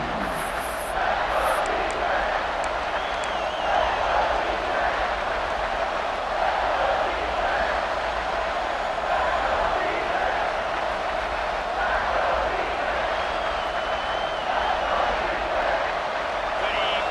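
Stadium crowd roaring steadily in a TCU college football video game before a third-down red zone play, a dense continuous wall of cheering with commentary over it.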